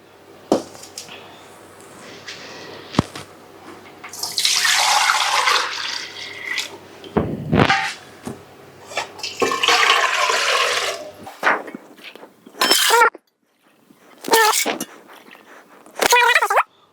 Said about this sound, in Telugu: ఒక లోట పిండి కలుపుకోవటానికి వాటర్ తీసుకుంటా. మొత్తం 5 లోటాలు నీరు పడుతున్నాయి.